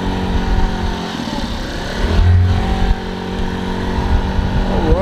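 Vitacci Denali 50 moped scooter with 10-inch steel wheels accelerating gently, a steady, fairly loud small-engine drone close by with a brief swell in revs partway through.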